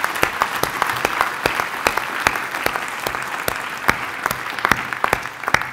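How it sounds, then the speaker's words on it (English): Steady applause from a modest group at a civil service challenge event fills the room, even and sustained, with individual claps standing out near the microphone. "Round of applause for Plymouth"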